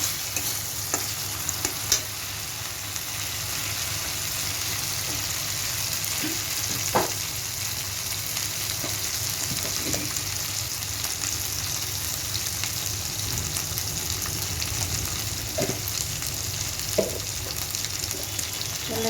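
Spices with turmeric, chili powder and salt frying in a pan for a fish curry, a constant close sizzle with occasional faint taps and scrapes, no voices.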